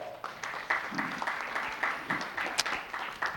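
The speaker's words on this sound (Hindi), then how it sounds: "शानदार, जोरदार तालियां" An audience at a Jeevan Vidya Parichay Shivir session bursts into brief, moderately loud applause with uneven clustered claps, lasting only a few seconds.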